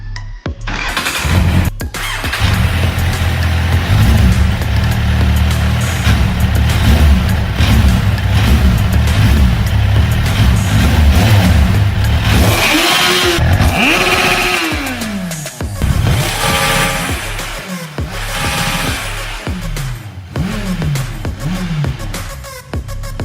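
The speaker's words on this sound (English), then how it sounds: "Because now, this machine can start up perfectly." Restored Kawasaki motorcycle engine running loud and close, a steady rough idle that goes on for a long while, then several revs rising and falling near the end, with no talking.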